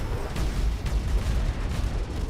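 Cannon fire slamming into a ship in the space game Starcore, a dense run of heavy booming impacts with short crackling bursts, loud and close, no voices.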